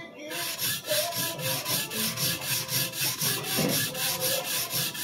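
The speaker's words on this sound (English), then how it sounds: "a little more time sharpening the right side of the knife than the left side" Takeda kitchen knife drawn across a whetstone during sharpening, a steady back-and-forth rasping scrape repeated in an even rhythm of about two strokes per second, close and moderately loud with no voices.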